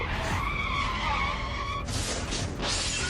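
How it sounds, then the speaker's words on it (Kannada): A car skids with a sustained, loud tire squeal, then cuts to a harsh, noisy burst suggesting the impact with a lorry, all close and without voices. "ಎದುರಿಗೆ ಮತ್ತೊಂದು ಯಮನಂತೆ ಬಂದ ಲಾರಿ ಶಂಕರ್ ನಾಗ್ ಅವರ ಕಾರಿಗೆ ವೇಗವಾಗಿ ಬಂದು ಅಪ್ಪಳಿಸಿತು"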